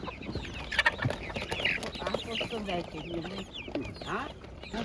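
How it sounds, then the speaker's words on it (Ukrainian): Chickens clucking and squawking close by at a poultry market in Otynia, busy overlapping calls with people talking in the background. "Ось такі курчатки."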